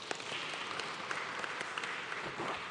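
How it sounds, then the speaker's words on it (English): An audience applauds steadily, a dense wash of many hands clapping at a moderate distance. "can we have a big round of applause again for John?"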